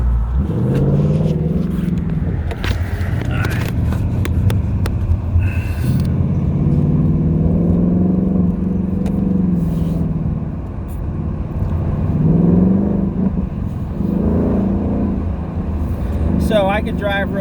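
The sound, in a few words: Ford Mustang engine driving in sport mode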